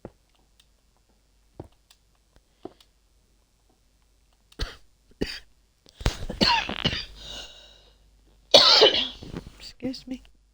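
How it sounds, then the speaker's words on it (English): A person with a tickly cough gives a few sharp, dry coughs and throat clears, close to the mic, sparse at first and then clustered, with some talking between them. "I've got a really tickly cough"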